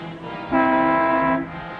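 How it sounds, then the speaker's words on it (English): A car horn sounds on a dark city street at night: one sustained, steady honk lasting nearly a second, loud and close, with no voices over it. "What are you honking the horn for?"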